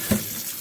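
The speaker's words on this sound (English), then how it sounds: "I am gonna turn some cold water on over it" Cold water runs from a kitchen tap over freshly cooked spaghetti, a brief close, steady splashing gush with a small thump at its start, heard without talk.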